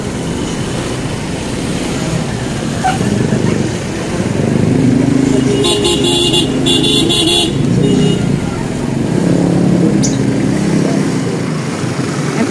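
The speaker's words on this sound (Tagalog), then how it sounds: "Motor, mga sasakyan po dito sa bangketa." Motorcycles and cars crowd a sidewalk and street in the Philippines, making a steady, loud wash of engine rumble and road noise, with a brief horn toot partway through.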